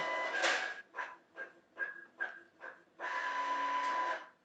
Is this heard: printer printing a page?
yes